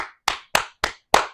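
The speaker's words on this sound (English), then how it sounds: "Let's clap it up." Five sharp hand claps, evenly spaced and close, loud and alone with no talk.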